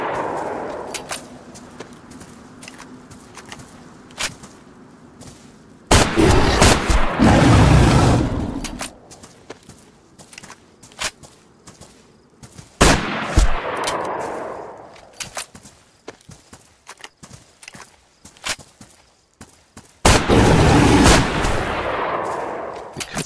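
Gunfire in the video game DayZ: loud, booming shots and rapid sharp cracks in several bursts, each with a long rolling echo, separated by quieter stretches with faint clicks.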